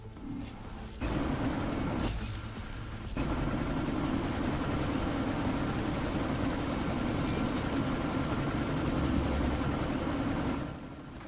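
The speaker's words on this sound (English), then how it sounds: "That chopper's about to take off!" Helicopter in the Deus Ex: Mankind Divided game, rotor chop and engine whine running loud and steady, with a sustained, near, throbbing drone lasting throughout.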